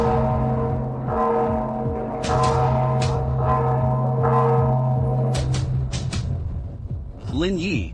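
A large bell strikes a series of resonant chimes with long humming decay, heard alongside voices talking over a steady low drone.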